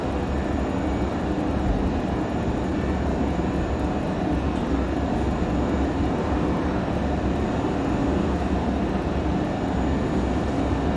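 A Learjet 35A's jet engines hold a steady, loud roar at high thrust for takeoff, with the brakes set, as a continuous broadband rumble with a faint high whine and no talking.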